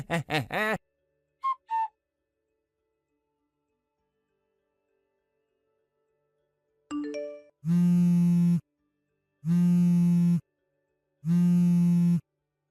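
A phone rings three times in long, evenly spaced buzzing tones after a few brief chirps and a long silence, loud and alone.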